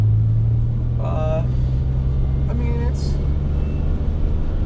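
An iconic 1980s movie car drives along with a steady, low engine drone and road rumble that continue throughout, while people talk briefly over it inside the car.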